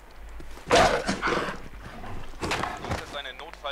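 A dog barks in the Fallout 4 video game, loud bursts heard close alongside combat sounds and someone talking.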